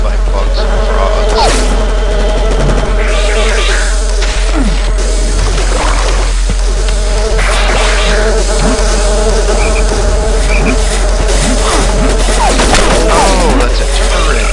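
Swarming insects buzz constantly in the Daikatana video game, a loud, dense droning hum with overlapping wing whines, punctuated by sharp gunfire pops and other game effects.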